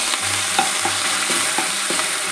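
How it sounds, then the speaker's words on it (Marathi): Ginger garlic paste fries in hot oil with a continuous close sizzle, broken by a regular run of spoon scrapes and taps against the pan. "आपल्याला घालायचं आहे एक टेबलस्पून आलं लसूण पेस्ट त्याला पेस्ट चांगली परतवून घ्यायची आहे"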